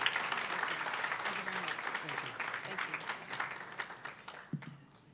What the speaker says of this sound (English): let me just ask you to please join me in a round of applause to Mrs. Letitia James